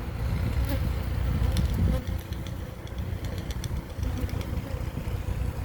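Close, dense buzzing of many honeybees at the hive, a steady hum that stays loud throughout.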